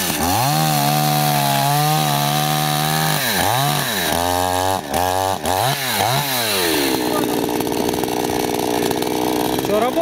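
A chainsaw cuts wood in a workshop. The engine holds a steady loud drone, then revs and dips several times as the cut is made, before settling into a rougher, lower idle. A voice is faintly heard.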